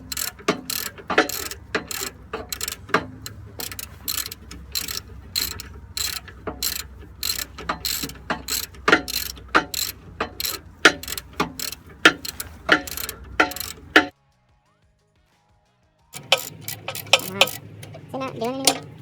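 Hand ratchet tightening the sway bar disconnect bolts on a Jeep Rubicon, with rapid clicking strokes in quick bursts, close and crisp, then a short silence before another run of clicks; a person talks at times.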